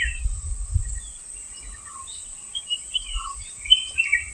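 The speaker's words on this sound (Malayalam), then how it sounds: "സൂപ്പറായിട്ടുള്ള കിളി ശബ്ദങ്ങൾ ഇങ്ങനെ കേൾക്കുന്നുണ്ട് വ്യത്യസ്തമായിട്ടുള്ള കിളിയുടെ ശബ്ദം" Scattered bird chirps and calls from several birds at sunrise on a tea estate in Vagamon, fairly faint and intermittent, over a constant high hiss and a little low rumble at the start.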